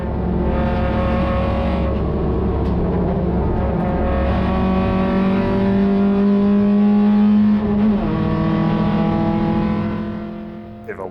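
Race cars at a grassroots event on the Phillip Island GP circuit, engines droning loud and close throughout with rising and falling revs as gears change, a sustained in-car roar that fades slightly at the end.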